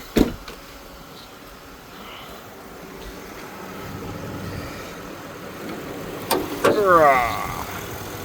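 A 2015 Ford F-350 flatbed pickup's 6.2 V8 gives a steady, low, moderately loud rumble with the hood open. A sharp clunk sounds near the start, and a cluster of knocks and a brief rising whine come near the end.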